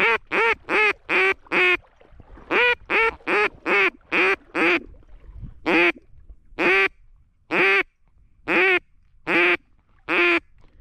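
Ducks quack during a duck hunt, with about seventeen loud, close, nasal calls in quick runs of five or six, then more spaced single quacks over a quiet background.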